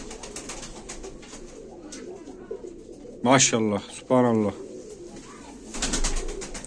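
Tumbler pigeons coo softly in a loft, low murmuring calls running under a voice, which speaks in brief bursts.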